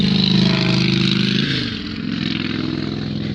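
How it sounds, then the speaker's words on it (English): A motorcycle goes past outdoors on a nice day, its engine droning loud and steady before easing off slightly as it moves away, with no talk over it. "oh, another bike"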